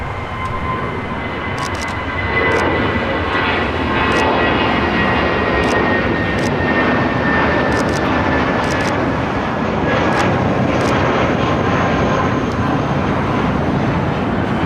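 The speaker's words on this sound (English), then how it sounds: "That is JetBlue Airways Flight 942 taking off to Reno on an A320 in the Puerto Rico Blue Rico livery" A JetBlue Airways Airbus A320 in Puerto Rico livery takes off at LAX. A loud, sustained jet engine roar holds steady and swells slightly with a whining tone, heard from a distance across the airfield.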